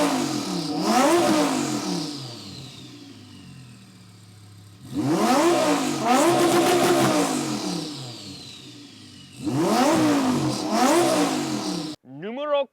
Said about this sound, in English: when you step on that gas and you hear those turbo spooling, especially right behind your head, the sound is so intoxicating